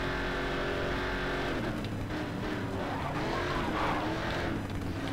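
A Panoz race car in the Race Driver Grid video game drives at speed, its engine a constant loud roar with shifting pitch and faint tyre scrub, with no talking over it.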